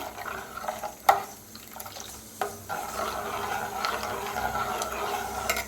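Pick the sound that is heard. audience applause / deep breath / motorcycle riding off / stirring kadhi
stirring kadhi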